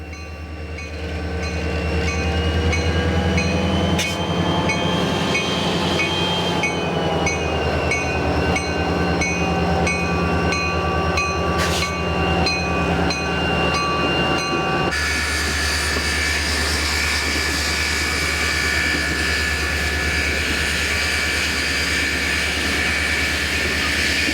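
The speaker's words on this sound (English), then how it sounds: "The diesel works hard as it pulls the heavy engine and water bottles up the grade." A diesel locomotive labors uphill hauling a heavy Union Pacific Challenger steam engine and water cars, its engine drone loud and steady throughout, with rumbling wheels and rail noise swelling around the midpoint and continuing strongly to the end.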